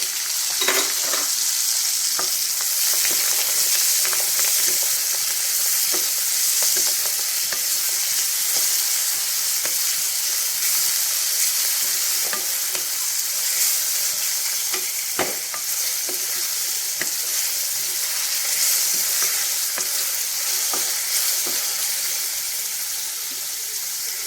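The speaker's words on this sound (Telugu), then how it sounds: "ఇప్పుడు ఇందులోకి ఇదిగోనండి ఉల్లిపాయ, కరివేపాకు, పచ్చిమిరపకాయలు ఇవి వేసేస్తాం." Onion, curry leaves and green chillies fry in a pan for a Telugu mutton and chana dal curry, giving a steady, close sizzle with scattered crackles and occasional stirring scrapes, no talking.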